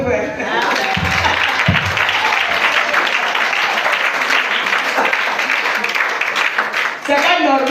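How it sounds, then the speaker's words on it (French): A seminar congregation bursts into sustained applause and cheering, loud and close, filling the room almost without pause, with voices mixed into the clapping. "Donc acclamez vous."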